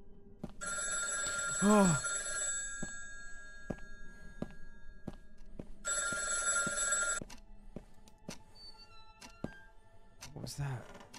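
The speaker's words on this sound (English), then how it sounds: "Why is that phone ringing?" Inside a house, an old-style telephone bell rings in two long, loud bursts several seconds apart, among scattered thuds and knocks, with a brief startled voice.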